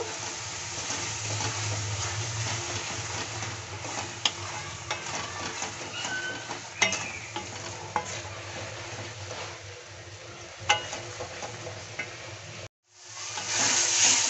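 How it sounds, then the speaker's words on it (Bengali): Turmeric, chili powder and coriander powder fry in a pan for a village-style egg curry, giving a soft, steady sizzle. A spoon stirs and scrapes against the pan with occasional clicks, and the sound ends in a brief cut before the sizzle resumes. "সবগুলো মশলা দেওয়া হয়ে গেছে। এখন আমি ভালোভাবে ভেজে নেব।"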